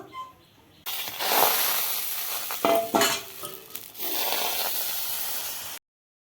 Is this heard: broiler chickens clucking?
no